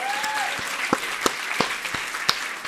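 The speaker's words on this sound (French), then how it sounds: "un tonnerre d'applaudissements pour lui souhaiter la bienvenue" Studio audience gives a warm round of applause welcoming a guest onto a French talk show, steady dense clapping throughout with a few sharper individual claps standing out, no voices on top.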